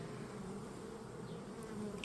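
A dense, steady buzz of many honey bees around a hive fills the air close by, a continuous droning hum without any voices.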